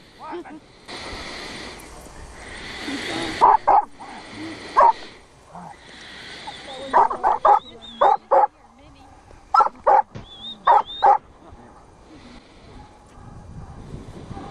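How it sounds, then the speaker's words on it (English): A Huntaway dog barks in loud, deep bursts, single and doubled, spaced out over the stretch with a voice talking between and under them. "The Huntaway dog is a breed developed in New Zealand."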